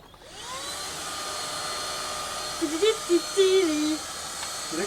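Vacuum cleaner motor winding up and running with a steady whine and airflow hiss, close and fairly loud, with a brief rising tone of a voice or whistle near the end.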